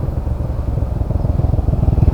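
A Honda TMX motorcycle engine idles and revs close by near Caliraya Lake, with a steady, throbbing low pulse that grows slightly louder and more rhythmic toward the end. No one speaks.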